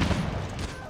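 A sniper rifle fires in the mobile shooter game Call of Duty Mobile, a single sharp, loud report with a rumbling tail within a brief moment of gameplay sound.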